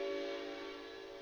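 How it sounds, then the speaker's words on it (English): A passing train sounds its horn in the distance, a faint, steady sustained tone that slowly fades over a second. "Oh, Mr. Train is coming."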